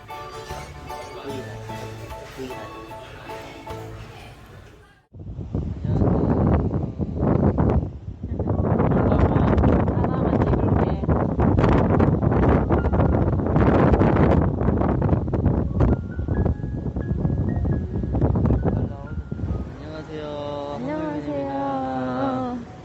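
Strong typhoon winds buffet the microphone on Jeju Island, a loud, continuous roaring rumble with gusts that rises abruptly after a quieter opening and holds steady, with brief talk-like sounds near the end.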